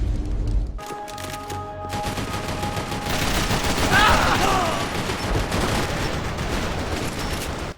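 Dense gunfire and bursts from a Max Payne 3 multiplayer match, with overlapping shots and rapid automatic fire sustained loud throughout, mixed with game background noise.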